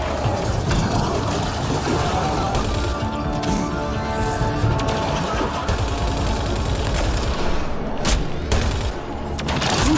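Turret gunfire in a Mass Effect Andromeda battle, a dense, sustained barrage of rapid automatic shots with booming impacts and crashes, loud and continuous throughout, with a brief lull near the end.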